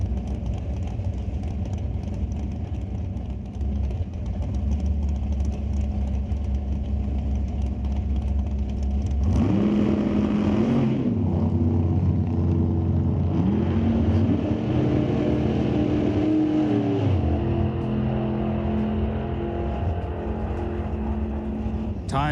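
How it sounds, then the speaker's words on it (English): Two drag racing cars, a 57 Corvette Roadster and a 2008 Mustang, one driven by a 605 Ford engine, launching down the track at an NHRA Canadian Sportsnationals event. A loud, continuous engine roar surges midway, with pitch sweeping up and down. "That 605 Ford was pulling that car down the track pretty well."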